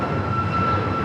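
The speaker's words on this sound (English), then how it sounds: "This is Southwest Airlines 2742 taking off to St. Louis on the MAX 8." A Southwest Airlines Boeing 737 MAX 8 taking off, a steady loud engine roar with a sustained whining tone, heard briefly and continuously.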